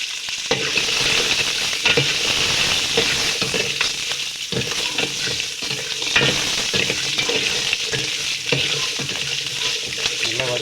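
Dried red chillies, shallots and garlic sizzling and frying in hot oil in a pan, with steady crackling and repeated scraping stirs of a spoon at close range.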